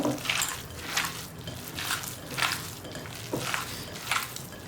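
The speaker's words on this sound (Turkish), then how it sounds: "Şimdi tüm bu malzemeleri güzelce yoğuruyorum." Minced meat köfte mixture kneaded by hand, close wet squishing and slapping pressed out in a steady rhythm of about five or six strokes, with no speech.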